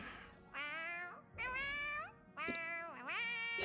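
A cartoonish cat meows four times in quick succession, clear and close, in the video game Honkai Star Rail, with each call rising and falling in pitch.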